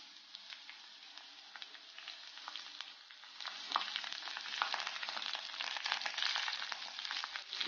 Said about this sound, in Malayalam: ആ കരിവേപ്പില തണ്ട് അതുപോലെ തന്നെ നമ്മൾ ഇടുന്നു.